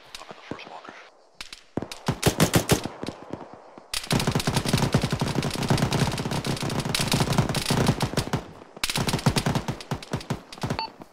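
Machine gun fire in a ShackTac military video game: long, dense bursts of rapid automatic shots, loud and close, broken by brief pauses, with faint whispered voices between bursts.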